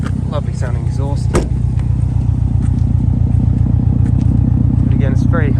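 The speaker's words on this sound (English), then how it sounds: "Lovely sounding exhaust." Steady, throbbing idle from the exhaust of a 2011 Subaru Impreza WRX STI sedan with a Cobb intake, heard up close with a brief clunk and a voice speaking briefly near the start and end.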